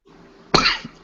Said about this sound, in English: Sorry, edit me coughing out.